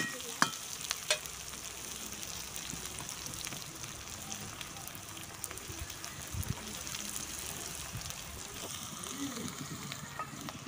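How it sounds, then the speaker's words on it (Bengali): Onions fry in a pan for a Bengali fish-head and taro-greens dish, a soft, continuous sizzle with occasional stirring scrapes and clinks, fairly quiet and close. "পেঁয়াজগুলোকে লাল লাল করে ভেজে নেব"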